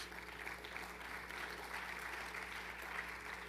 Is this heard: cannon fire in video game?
no